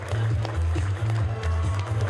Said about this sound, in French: On peut encore applaudir bien fort, bravo